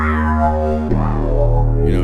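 An ARP 2600 synthesizer (Korg reissue) sustains a buzzy, harmonically rich tone, then shifts abruptly to a lower, grittier pitch with a faint high sweep near the end.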